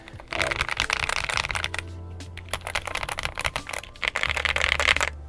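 Rapid clacking of a stock GMK81 75% mechanical keyboard with Gateron yellow switches, bursts of fast typing close up with a brief slower pause in the middle.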